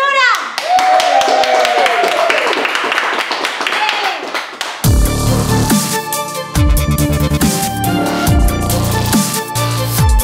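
A group claps rapidly and loudly alongside voices, then music with a beat takes over while the clapping continues.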